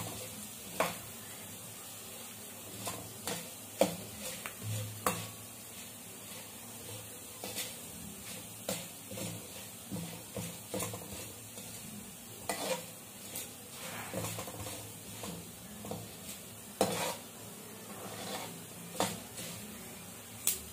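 Curry leaves fry over a low flame, stirred often, giving soft, close scrapes and taps of a spoon against the pan over a faint sizzle, with no talking.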